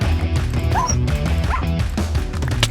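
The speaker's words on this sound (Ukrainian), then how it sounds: "Що це за пес?" Repeated yipping barks from a dog in the Minecraft video game, several short sharp calls spaced across the moment with a brief crash-like hit near the end, fairly close and clear with no talk over them.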